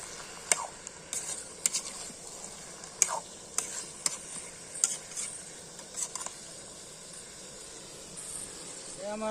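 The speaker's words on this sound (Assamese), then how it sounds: "কিছু সময় আমি ভাজিম, ভাজি পেলাই ঢাকন দি পেলাই থৈ দিম, যাতে মাংসটো সিজি যায়।" Duck meat frying and being stirred in a pan at an outdoor cooking session, a steady sizzle under repeated scraping and clinking strokes of a utensil against the pan at close range.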